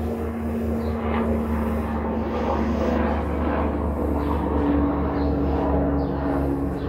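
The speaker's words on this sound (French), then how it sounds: "il y a un hélico qui passe" A helicopter passing overhead, a steady, even drone of rotor and engine noise that holds for several seconds at moderate loudness, with no voices.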